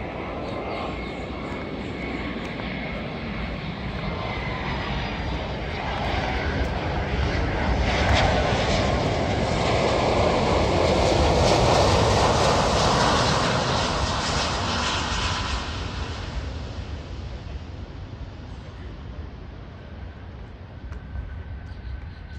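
An airplane landing at Miami International Airport roars past nearby. The engine noise swells to a loud peak midway, then fades as the aircraft moves off.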